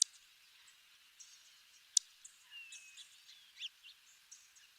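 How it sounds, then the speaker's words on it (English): A Savannah sparrow gives sharp, smacking call notes, two crisp clicks standing out among faint scattered chirps, thin and distant over a quiet background. "And then compare it to this Savannah sparrow."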